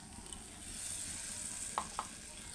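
Rupchanda fish frying in ground mustard and poppy seed paste, a steady oily sizzle with two brief sharper pops near the end, heard close and alone.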